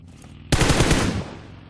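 Burst of rapid automatic gunfire in a battle royale video game tournament match, a loud close volley lasting under a second before tailing off into a quieter background.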